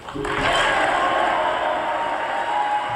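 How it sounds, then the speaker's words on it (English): Applause and cheering from the Republican side of a joint session of Congress, a standing ovation after a line about tax cuts. A dense, steady roar of clapping fills the room at close range without letting up. "He was then awarded an even bigger round of applause, a standing ovation from the Republican side of the room"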